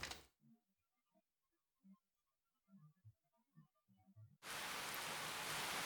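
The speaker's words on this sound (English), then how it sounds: "A gentle rain begins to fall." Gentle rain in the video game Fate/Extra: a few soft, sparse tones sound over near silence, then a steady, full hiss of falling rain comes in suddenly and holds to the end.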